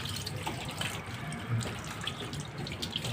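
Tap water runs steadily while a pet dog is bathed, a quiet continuous splashing flow with small drips and no talk over it.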